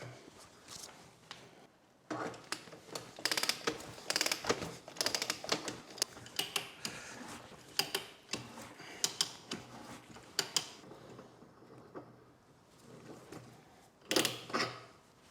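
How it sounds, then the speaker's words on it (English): A short length of pipe being cut and threaded in a workshop for a gas line, giving irregular ratcheting clicks and metallic scraping bursts, close and moderately loud, with pauses between strokes. "Now I'm just going to cut me a short piece of pipe and thread it"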